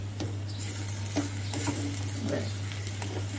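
Steady stirring and scraping of a sweet sugar mixture in a pan with a soft sizzle underneath, continuous with a few louder scrapes, no voices.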